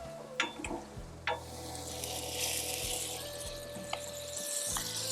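Meatballs browning in sausage grease on a Blackstone griddle give a steady, close, bright sizzle with a few sharp pops and clinks near the start and a low hum underneath.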